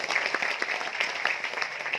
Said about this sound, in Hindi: तालियां बजती रहें प्लीज